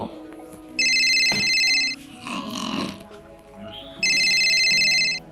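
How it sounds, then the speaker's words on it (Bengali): A telephone rings in two loud electronic bursts with a pause between, in a quiet domestic drama scene; a short vocal sound falls in the gap. "ফোন বাজছে তো"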